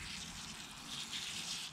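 Water pours steadily onto soil in pots of freshly sown horse chestnut seeds, a continuous close gushing splash that holds even for the whole moment.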